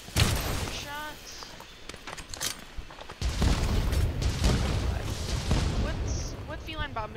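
A heavy bowgun fires in Monster Hunter, with repeated booming shots and impacts in irregular bursts mixed with game effects, and a voice talking over the action.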